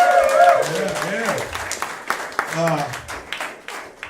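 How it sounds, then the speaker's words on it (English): A comedy-club audience applauds the comedian's mother on her 37th wedding anniversary, scattered clapping running under a voice speaking over it and fading as he continues. "so a round of applause for my mom"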